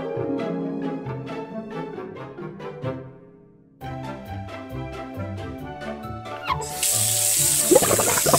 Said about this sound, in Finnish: Ensin hedelmät pitää pestä.